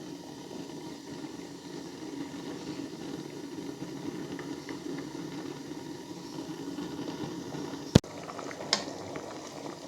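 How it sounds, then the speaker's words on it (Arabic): Rice and water boiling in a pot, a steady bubbling hiss running throughout at moderate level, with a sharp click near the end and no voices. "هنا راه بدا يغلي"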